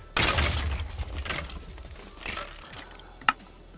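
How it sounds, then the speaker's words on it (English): Game explosions from a Herobrine mod in Minecraft Pocket Edition, a loud opening blast trailing into rumbling bursts, with a couple of further booms and a sharp crack near the end, no talking. "Herobrine's, power allows him to spawn skeletons and cause explosions all around us"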